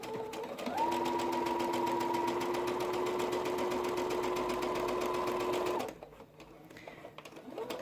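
A sewing machine stitches cotton face-mask fabric in a steady, close mechanical whir for several seconds, then stops, leaving quiet handling noise.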